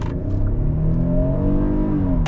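A Kia Telluride EX with front-wheel drive accelerates hard, its engine note rising steadily in a loud, close, continuous drone with no talking.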